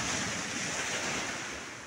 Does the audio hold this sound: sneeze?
no